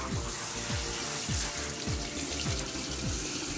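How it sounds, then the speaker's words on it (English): Running tap water pouring over dyed fabrics being rinsed in a sink, a steady close splashing rush with repeated soft sloshing as the cloth is worked under the stream. "you're going to want to rinse all your fabrics because they're obviously still very, very wet with dye. So just get them wet, rinse it out."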